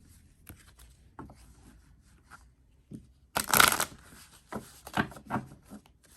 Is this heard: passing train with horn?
no